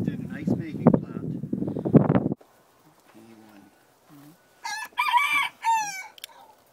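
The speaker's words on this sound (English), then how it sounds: "Chickens can be part of my vlog." Someone talks briefly, then chickens cluck softly nearby before a rooster crows loudly close by, a long drawn-out call.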